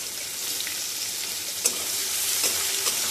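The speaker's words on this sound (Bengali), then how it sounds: "4টে লবঙ্গ আর একটু গোটা জিরে ফোড়নে দিয়ে দিচ্ছি।" Cloves and cumin seeds fry in hot oil as a tempering for chirer polao, a steady close sizzle with a few small pops and stirring taps, no talk.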